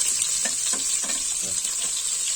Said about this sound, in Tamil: வெட்டி வச்ச பல்லாரியை போட்டுக்கலாம்.